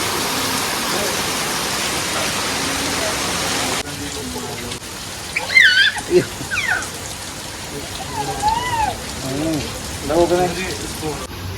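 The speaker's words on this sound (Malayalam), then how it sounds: "പേടിപ്പിക്കുന്ന മഴ" Heavy rain pours down in a steady, loud roar for about four seconds, then drops to a softer hiss while scattered chirps and brief voices come through.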